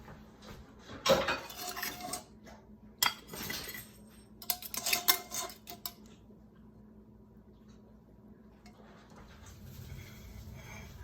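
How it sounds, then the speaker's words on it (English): Plates and cutlery clink and scrape close by in a home kitchen while salmon from the oven is plated, coming in short clattering bursts separated by quiet gaps and ending in a soft rustle. "I'm gonna go ahead and plate this different."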